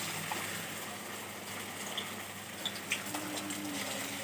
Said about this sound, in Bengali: এখন গোল গোল করে এটা জাস্ট তেলে ভাজবো